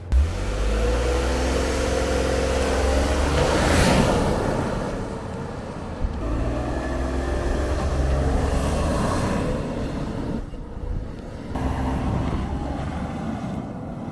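A Lexus LX600 F Sport's 3.4-liter engine revs hard in Sport Plus mode and climbs in pitch, dropping briefly at each automatic gear change before pulling again, with wind rushing throughout.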